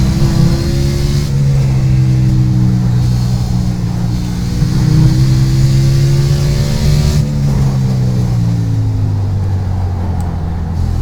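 A race car in the iRacing sim slows hard into a corner, its engine note stepping down through gears with steady droning pitch sweeps, loud and continuous with no talking over it.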